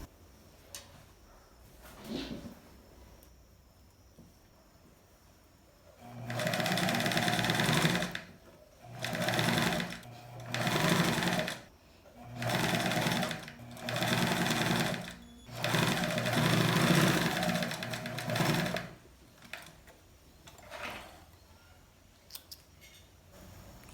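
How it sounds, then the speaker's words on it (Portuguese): Sewing a shirt sleeve seam, a sewing machine hums in repeated short runs separated by quick pauses, close up, with faint clicks and handling noises before and after the stitching. "Vamos passar a costura aqui e repetir o processo na outra manga."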